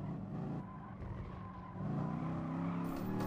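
Race car in Gran Turismo Sport braking hard into a corner, engine note dropping with brief tire scrub, then revving back up louder as it exits, steady close game audio with no talk.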